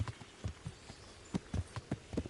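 Horse hooves clip-clopping at a slow walk in the Kingdom Come: Deliverance video game, a faint, close, irregular series of soft thuds with no talk.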